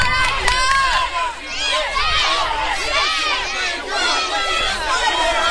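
A live crowd at an independent wrestling show, an RWA triple-threat match, shouts and cheers continuously in a loud, dense wash of overlapping voices rallying behind one wrestler.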